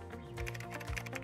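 Keys tap on a computer keyboard in short, soft clicks over a low, steady background hum.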